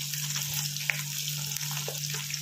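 Pieces of katla fish fry in hot oil in a pan, with a soft, steady bubbling sizzle and occasional pops over a low constant hum. Nobody speaks.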